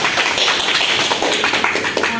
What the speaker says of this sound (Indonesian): Kesimpulan dari Maisan, boleh tepuk tangannya.